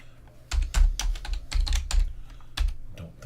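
Typing on a computer keyboard, close and loud, with bursts of rapid key clicks and heavier thumps in an irregular rhythm and no talking.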